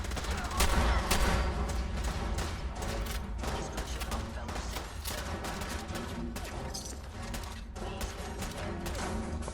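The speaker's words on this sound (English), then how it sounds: "Oh, he's got a Gatling laser." A Gatling laser fires in Fallout 4, a steady dense stream of rapid shots that stays loud and close throughout, with a brief heavier burst near the start.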